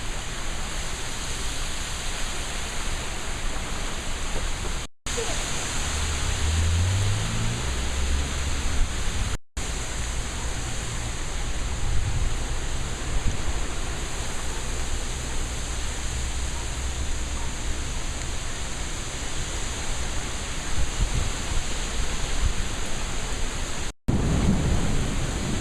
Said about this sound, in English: A lot of wind, a little bit of rain, and a lot of thunder.